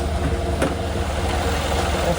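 A Mercedes S63 AMG engine idles steadily nearby with a slightly rough note, a low continuous drone with one brief higher click partway through.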